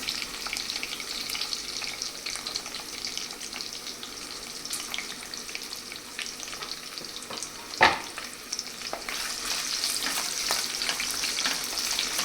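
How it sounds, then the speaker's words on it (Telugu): Large-cut onion pieces fry steadily for a fish curry, a continuous crackling sizzle in the pan with occasional stirring and one sharp clatter partway through. "ఇవి కొంచెం బ్రౌనిష్ కలర్ వచ్చేంత వరకు వేగితే చాలు"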